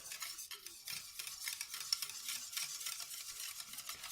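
A utensil stirs a tiramisu mixture in a bowl, giving soft, continuous scraping and swishing at close range, quiet and alone.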